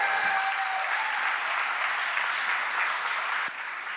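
Steady audience applause for speaking-competition finalists at an awards ceremony, a dense wash of many hands clapping that carries on evenly and eases slightly near the end.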